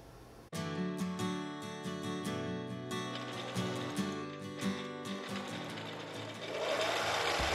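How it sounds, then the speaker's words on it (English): A sewing machine stitches fabric masks in a volunteer workshop, a steady close mechanical whir with rhythmic needle chatter that starts abruptly and runs continuously. "One person is working on a sewing machine."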